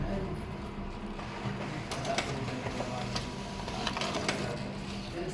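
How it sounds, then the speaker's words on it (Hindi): A photocopy machine runs a double-sided copy job, giving a steady mechanical whir with irregular clicks and paper-feed rattles throughout, close and moderately loud. "देखिए ये प्रिंट आउट होकर के इधर निकल रहा है"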